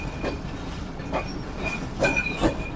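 Karakoram Express train rolling toward Tando Adam station in Pakistan: a constant rumble with wheel squeal and a few sharp clacks at irregular intervals, no voices.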